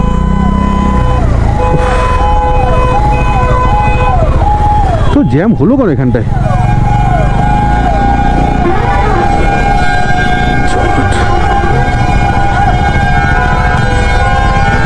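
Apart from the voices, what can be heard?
ambulance siren in traffic jam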